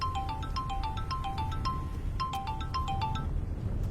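A mobile phone ringtone plays repeatedly in a steady electronic melodic pattern, loud and clear over a low background rumble, with no talking.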